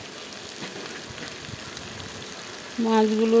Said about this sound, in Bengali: কাঁচা পেঁয়াজগুলো তেলের মধ্যে দিলাম তেল পেঁয়াজটা লাল হলে তারপর মাছগুলো ঢেলে দেব